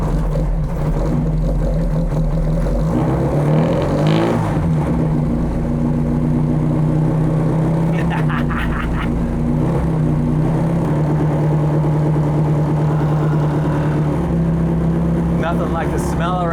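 A Britax Classic race Mini engine running on race gas fires up and revs, a loud, steady close-up drone with a few throttle blips rising and falling, while someone talks over it.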